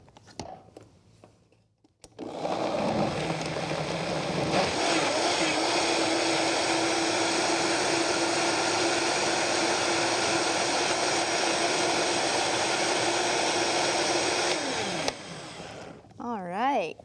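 A kitchen blender whirring through squash soup, a loud steady motor roar that starts abruptly after a few quiet seconds, holds for about twelve seconds, then cuts off, with people talking around it.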